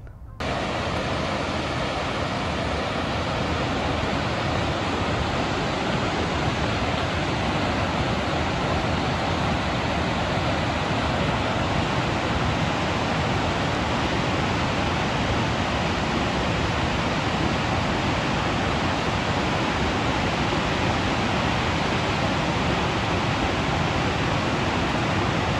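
A steady, roaring rush of falling water from Burney Falls fills the air continuously, loud and unbroken with no other sounds standing out.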